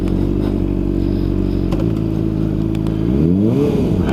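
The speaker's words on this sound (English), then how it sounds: "I like that this bike doesn't just do loud. It makes a really pretty nice noise." 2007 Honda CBR600RR motorcycle engine running at steady high revs, then climbing and dropping through a rising rev sweep near the end, loud and close with no talk.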